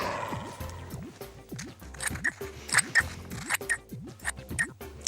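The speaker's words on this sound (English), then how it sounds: "That gives us a nice circle, which we're going to cut out. But be careful, because scissors are sharp." Scissors cutting out a paper circle give a series of quick, crisp snips close by, with a light, bouncy tune playing underneath.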